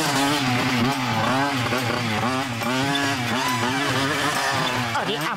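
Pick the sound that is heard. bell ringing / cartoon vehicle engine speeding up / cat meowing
cartoon vehicle engine speeding up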